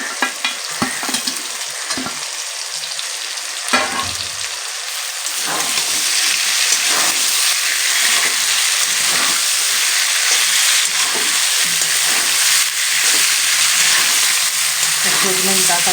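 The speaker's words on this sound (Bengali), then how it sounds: "সজনে ডাঁটাগুলো দিয়ে আমি হালকা একটু ভেজে নিয়ে" Drumstick (moringa) pieces fry in hot oil in a pan for a Bengali rohu fish and potato curry, a steady loud sizzle with repeated stirring scrapes and clinks throughout, growing denser partway through.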